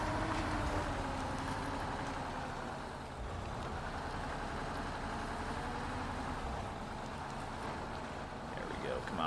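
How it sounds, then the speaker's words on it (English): A truck engine in the off-road driving game MudRunner drones steadily and loudly throughout, a thick continuous rumble with a brief dip partway through. "I know the sounds of the truck are kind of overtaking everything"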